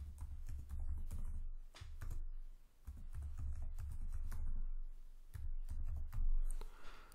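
Keys clatter on a computer keyboard as an email address is typed into a web contact form, a close, steady run of quick taps with brief pauses and no talk.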